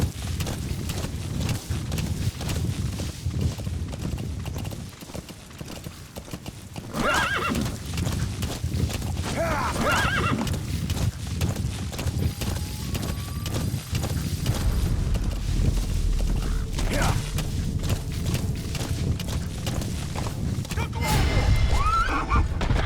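A horse in Metal Gear Solid V neighs and whinnies while its hooves clip-clop steadily and close, over continuous game ambience, with a voice talking over it.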